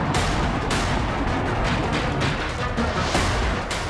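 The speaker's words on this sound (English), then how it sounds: "the Kinzhal hypersonic air-launched cruise missile, seen here smashing into a Ukrainian underground weapons depot" A Kinzhal hypersonic air-launched cruise missile strikes an underground weapons depot, producing a sustained, dense roar of loud blasts and crashing booms with repeated sharp impact bursts throughout, no voices.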